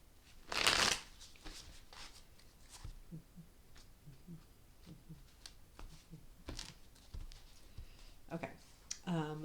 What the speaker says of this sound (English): I'm going to do a couple more quick shuffles.